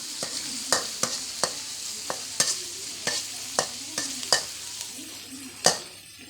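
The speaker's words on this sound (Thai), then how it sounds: "ผัดผักเอาหมูใส่ก่อนแล้วค่อยเอาพริกใส่ที่หลังเห็นไหม" Mixed vegetables and pork chunks are stir-fried in a pan, a low steady sizzle broken by a dozen or so sharp, regular scraping strokes of the spatula, close and with no talk.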